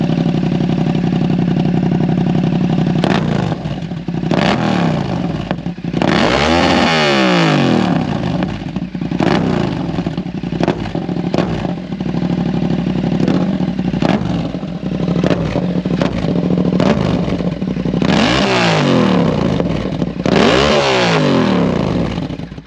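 A customized Yamaha MT-07 motorcycle engine idles close by with a loud, steady rumble, broken by several sharp revs that rise and fall, mostly in bursts around the middle and end.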